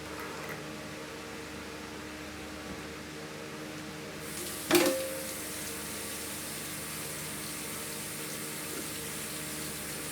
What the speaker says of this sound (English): Let me give my hands another quick wash here.